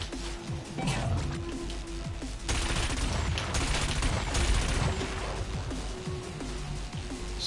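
Rapid cannon fire in the WipEout Omega Collection racing game, a dense run of sharp repeated shots over the continuous game sound, loud throughout.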